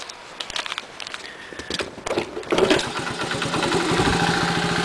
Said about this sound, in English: So let's see now if I can get it to start.